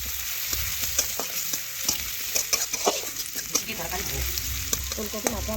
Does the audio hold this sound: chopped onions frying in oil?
yes